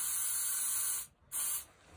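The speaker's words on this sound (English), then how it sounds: "I'm mixing some silicone spray." Silicone spray hisses from an aerosol can in two close, sharp bursts, the first about a second long, then a brief gap and a shorter second burst.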